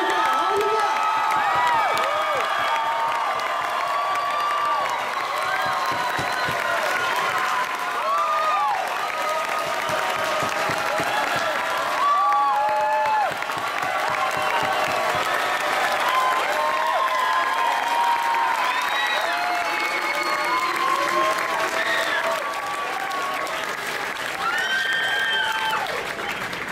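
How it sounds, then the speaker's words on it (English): A large audience at a worship event breaks into sustained applause mixed with cheers, whoops and shouts, a loud, dense, continuous ovation rising and falling over nearly half a minute. "Can we give the best applause we've given all night long to God tonight, to Jesus Christ tonight?"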